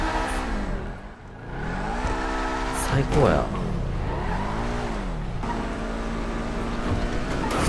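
Car engine revving in a GTA roleplay game, rising and falling pitch sweeps as the vehicle accelerates and shifts, with tire noise and a voice speaking briefly over it.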